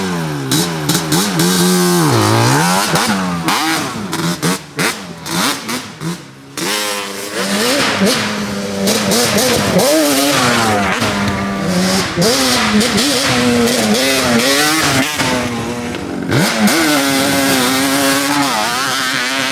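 A Yamaha Banshee ATV engine revs hard in loud, rising and falling bursts, close and continuous, with its tires spinning and no talking.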